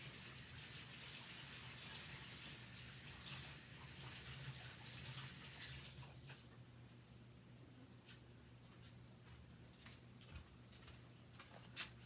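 Running tap water washes over a chalk stencil in a sink, a steady broadband rush that eases slightly partway through, with small ticks and clatters of handling in the background.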